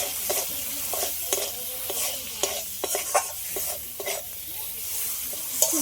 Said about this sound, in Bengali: এই টমেটোটা একটু হালকা করে ভেজে নিলাম